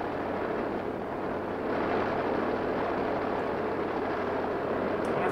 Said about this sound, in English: I wonder if that plane's ever gonna get there.